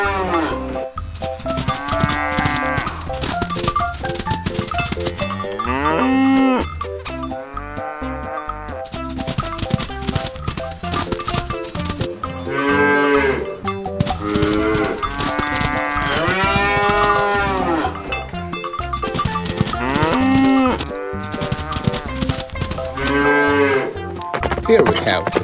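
Cattle moo repeatedly, long drawn-out lowing calls one after another with short gaps, close and loud, no talking.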